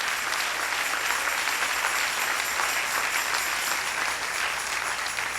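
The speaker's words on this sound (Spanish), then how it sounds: "Dale un aplauso al Señor en esta preciosa y hermosa mañana." A church congregation applauds steadily, a dense wash of many hands clapping together at an even level throughout.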